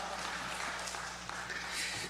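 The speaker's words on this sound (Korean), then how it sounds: "하나님께 영광의 박수 올려드리겠습니다" A church congregation applauds at a dawn prayer service, giving a soft, steady wash of clapping at moderate distance that holds evenly throughout with no voices on top.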